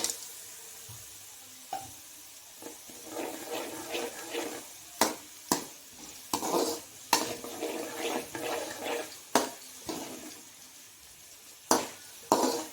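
Dried turkey berries (sundakkai vathal) fry in oil alongside browned garlic, giving an uneven crackle with repeated sharp pops and spitting bursts over a softer background sizzle.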